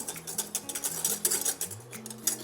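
Swoon syrup stirred with a whisk in a saucepan, making quick metallic scraping and clinking against the pan, close up, over a soft low hum.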